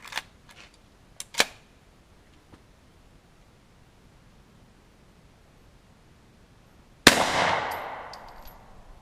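A .40 S&W Hi Point carbine round smashes a glass lens in a backyard: one sudden loud burst of breaking glass, with a brief bright shattering tail, preceded by a few faint clicks and knocks.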